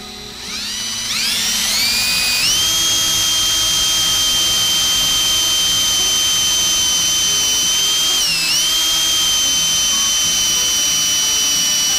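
A high, steady whine of a drill biting into metal, spinning up then holding a loud, continuous pitch with a brief dip midway.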